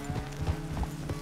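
Horse hooves clip-clop at a steady walking rhythm in the Red Dead Redemption 2 video game, several soft close thuds over a low ambient bed, brief and moderately quiet.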